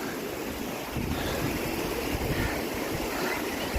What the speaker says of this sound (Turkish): İşte şelale.